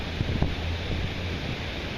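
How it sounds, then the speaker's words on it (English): Strong outdoor wind buffets the microphone on a metal-detecting dig, a steady loud rumbling gust with a few low thumps and no talking. "Oh, this wind's getting bad."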